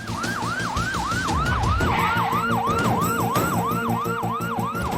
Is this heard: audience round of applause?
no